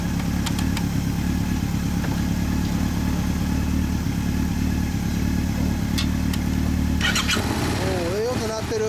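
A Honda VTR250 motorcycle fitted with a Mugen muffler idles with a steady low rumble throughout, close and loud, with a brief throttle rise near the end.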